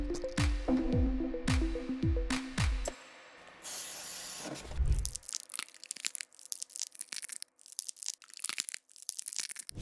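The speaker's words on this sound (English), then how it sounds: "we're about to hit it with the black spray primer" Black spray primer hisses onto a prepared foam block in a short burst, preceded by sharp crunching and clicking handling sounds and followed by scattered crackles and taps.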